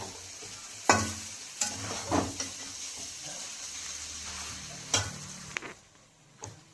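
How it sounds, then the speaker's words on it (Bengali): Chow mein stir-fried over high flame in a pan, a soft steady sizzle broken by intermittent scrapes and knocks of a utensil tossing the noodles, close but moderately quiet. "এখন পুরো আস্তে আস্তে নাড়াচাড়া করতে করতে পুরো মিক্স করে নেব"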